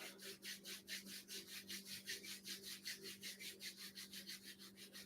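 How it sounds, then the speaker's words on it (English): Palms rubbed briskly together during a yoga session, a steady rhythmic swishing of about four strokes per second, close and soft, with no voices over it. "Now rub your palms together"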